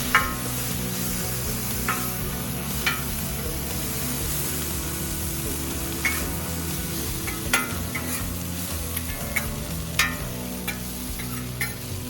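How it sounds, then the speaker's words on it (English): Continuous sizzle of cooked noodles and vegetables frying on a griddle, with intermittent scraping and tapping of a spatula against the cooking surface as food is tossed. "Add cooked noodles to the veggie and keep frying."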